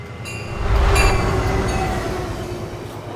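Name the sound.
train approaching in Minecraft video game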